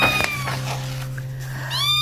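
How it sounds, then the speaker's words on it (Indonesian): Several cats meow in quick succession, with one high drawn-out meow at the start and another rising one at the end, loud and close over a steady low hum. "Suara ngeong makin ramai."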